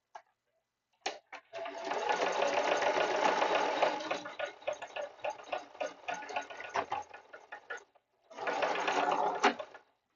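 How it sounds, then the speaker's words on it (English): Sewing machine zigzag stitching across straps, a fast mechanical whir running in bursts, one long stretch, stuttering short runs, then another steady run, close up with no talking. "So instead of doing like you often will see like the box stitch on straps, I just do a zigzag."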